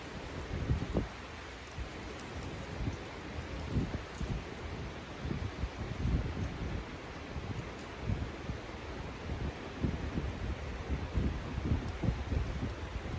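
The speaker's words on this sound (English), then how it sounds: "I don't really like to be out in the woods when it's this windy." Steady roaring wind in woods with rustling leaves and a constant breathy rush, broad and unbroken, no voices.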